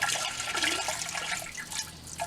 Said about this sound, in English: Now a toilet, if you're going to flush it, you can take this water and you can pour it in nice and slow.